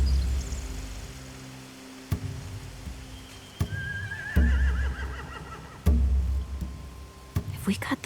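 Horses neigh in The Walking Dead: The Final Season video game, a rising whinny standing out mid-clip among scattered thuds and low rumbling, with a brief higher cry near the end.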